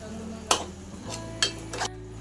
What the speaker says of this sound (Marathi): मीठ ऍड केल्यानंतर याला व्यवस्थित मिक्स करून घेऊ